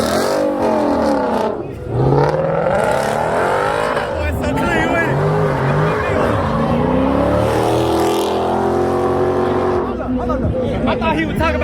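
At a street car meet, an engine revs hard and wails through a burnout, pitch sweeping up and down with tire squeal, loud and close, while onlookers chatter and shout around it.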